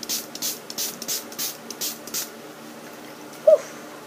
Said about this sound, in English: it's the makeup mist and set spray from E.L.F.